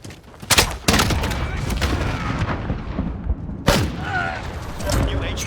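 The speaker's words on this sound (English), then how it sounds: "Taking fire! Ah, stop shooting me!" Gunfire in Call of Duty Modern Warfare: bursts of sharp shots and heavy booms, loud and close, mixed with battle noise and brief game voice chatter.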